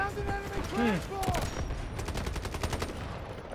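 Rapid automatic M7 rifle fire in the shooter game Delta Force, a fast, even string of close, sharp shots that follows a moment of voice and game sounds.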